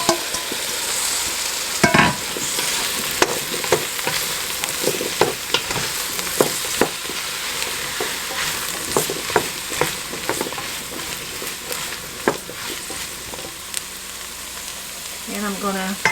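Sliced zucchini squash being stirred in a hot pan for chicken soup, with a steady sizzle under repeated sharp scraping and clattering of the spoon against the pan, close and fairly loud.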